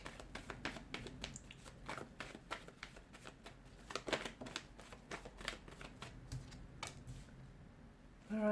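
Tarot cards shuffled by hand in a quiet room, a steady run of crisp, close riffling snaps and flicks with no talking.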